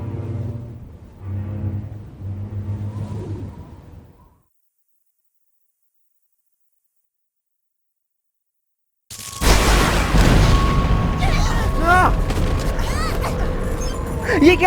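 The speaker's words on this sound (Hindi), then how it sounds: "ये क्या था? भूकंप आ गया भाई," A deep, loud rumble from an earthquake in the Attack on Titan anime (Hindi dub) breaks in after a few seconds of speech and a long silence, then carries on heavily with sharp crackling bursts on top.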